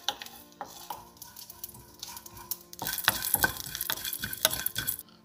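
Whole masala spices such as cloves and cinnamon are dry-roasted and stirred in a pan for a mutton methi curry, with soft rattling and scraping that swells into a livelier crackling stir toward the end.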